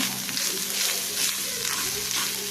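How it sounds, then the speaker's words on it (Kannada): Onions fry with turmeric in a pan for chicken sukka, a dense continuous sizzle close to the ear with faint stirring movement underneath and no speech. "ಈರುಳ್ಳಿ ಒಟ್ಟಿಗೆ ಎಲ್ಲ ಫ್ರೈ ಮಾಡ್ತೀನಿ"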